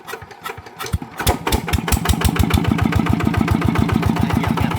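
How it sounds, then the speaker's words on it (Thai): A small engine, tuned up for paddy-field work and water pumping, sputters, catches and starts, then settles into a steady rapid putter, loud and close. "เดี๋ยวช่วยกดเครื่องมา อ่านะครับ เดี๋ยวกำลังก็ติดนะครับ"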